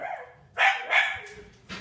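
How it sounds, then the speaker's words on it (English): A dog barks a few times up close, loud sharp barks with short gaps in an indoor home setting, with no talk over them. "That would be Teddy the dog."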